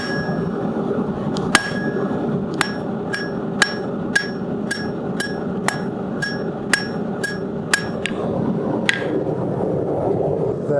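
Sharp metallic hammer strikes ring out one after another at an irregular, steady pace as a steel rod is forged into a hook, bright and close, over a low background rumble.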